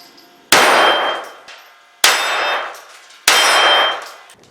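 Pistol rounds strike a 6-inch steel target three times at steady intervals, each a loud, sharp metallic clang that rings out and fades before the next hit.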